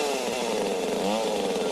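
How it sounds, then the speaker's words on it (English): A chainsaw runs steadily at close range throughout, its engine droning loudly and unbroken during a duel scene in the horror film Motel Hell. "They have a chainsaw duel."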